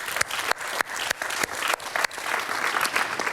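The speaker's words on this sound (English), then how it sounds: "So I also want to give them a round of applause for the work they do." Audience applause at a First Ladies and Gentlemen summit, a dense burst of many hands clapping with a few sharp louder claps standing out, steady and fairly close, with no voices over it.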